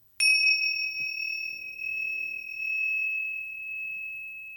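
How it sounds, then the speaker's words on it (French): A small bell used for sound therapy is struck once and rings with a clear, sustained metallic tone that fades slowly over several seconds, with faint soft knocks and rustling underneath. "on ferme avec encore les petites cloches"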